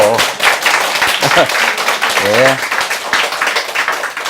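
Audience clapping at a lecture hall talk, a steady patter of many hands filling the room while someone speaks briefly over it.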